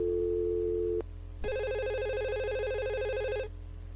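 A telephone rings in a psychotherapist's office in an animated comedy: a short tone, a pause, then one long, loud, steady electronic ring that stops abruptly, with no talking over it.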